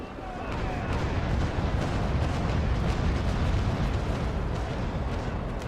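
Frigate broadside cannon fire in the naval combat game Naval Action Legends, a dense, sustained rumble of heavy booms rolling on loudly for several seconds with no gaps.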